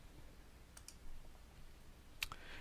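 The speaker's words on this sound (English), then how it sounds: "All you do is you click on the name." A computer mouse is clicked in a quiet room during a software tutorial: a couple of faint, crisp clicks early on and a sharper click near the end, with no speech.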